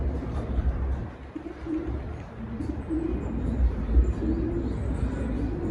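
Soft, low pigeon cooing repeats in a gentle rhythm, somewhat faint beneath a rumbling, noisy background.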